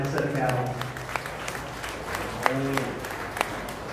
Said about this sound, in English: Give these exhibitors a big round of applause for the middleweight division.